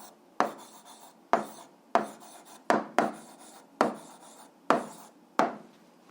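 A pen or pencil writes an answer by hand on paper, making seven evenly spaced scratchy strokes, each a sharp start that trails off, close and clear with no talking.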